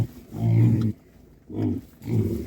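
Piglets at a livestock market squeal and grunt in three loud bursts separated by short pauses, close by, with no one speaking.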